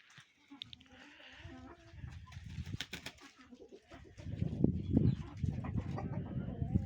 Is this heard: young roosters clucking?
yes